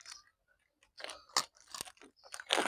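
Someone bites into a toothpaste-filled Oreo cookie and chews it close to the microphone, making a few crisp crunches followed by softer wet chewing, quiet overall with no talking.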